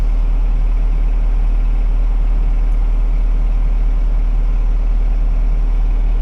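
A tractor engine drones steadily and close while baling hay in the evening, a constant low hum without pauses.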